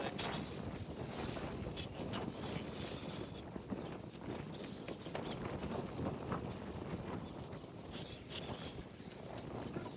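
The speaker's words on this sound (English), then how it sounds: "A bit windy out here today." Steady wind blows across an outdoor apiary while beehives are being inspected, a continuous broadband rush with gusty buffeting against the microphone and no speech over it.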